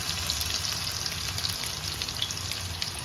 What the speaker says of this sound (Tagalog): So let's fry it for about, let's say, 2 to 3 minutes.